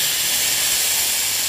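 Tamarind water poured into a hot pan of fried dried fish, giving a loud, steady steaming hiss that holds evenly throughout with no talk.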